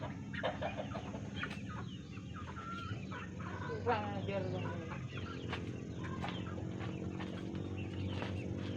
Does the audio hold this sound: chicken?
yes